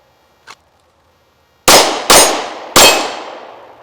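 Shots striking a homemade half-inch steel target, three loud ringing clangs in quick succession, each decaying over roughly half a second, preceded by a faint distant pop.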